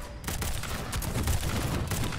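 Mortars fire in the mobile strategy game Girls' Frontline, a dense, continuous barrage of overlapping booming blasts and crackling impacts filling the whole short clip.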